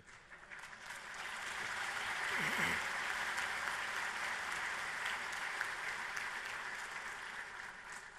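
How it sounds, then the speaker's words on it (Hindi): Conference audience applause at Construction Technology India 2019 in New Delhi: sustained, fairly distant clapping from a large hall crowd, swelling slightly and then holding steady for several seconds. "उसमें तो ताली बजा सकते हैं।"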